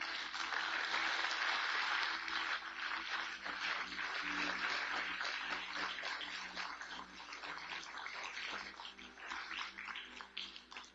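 Audience applause during a motivational talk, a sustained wash of many hands clapping that stays even and moderately distant, thinning slightly toward the end.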